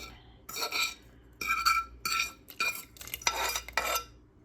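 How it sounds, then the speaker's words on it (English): Mushrooms tipped into a pot of steak and potato soup, giving several short bursts of clattering, scraping metal and stirring, close and moderately loud, separated by brief quiet gaps. "And now I'm going to put the mushrooms in"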